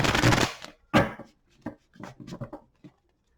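Tarot cards shuffled for a reading: a dense, crisp riffle of cards, then several quick separate slaps and soft flicks, close and fairly quiet, with no talking.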